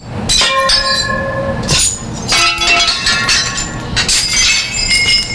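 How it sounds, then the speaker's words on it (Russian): Panes of a glass dome break loose from the decaying roof of an old greenhouse and crash down, loud clattering impacts and bright tinkling shards coming in several bursts over steady rumbling noise. "Детали стеклянного купола с грохотом летят вниз."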